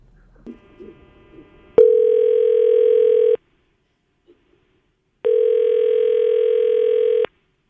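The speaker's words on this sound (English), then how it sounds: "we're going to just go on ahead and punch the digits through" A telephone dial tone sounds in two loud, steady bursts of about a second and a half and two seconds, separated by a short silence, with faint handling noise before the first.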